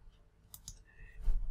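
A computer mouse gives a few sharp, crisp clicks close by, widely spaced within a second or so, with no talking.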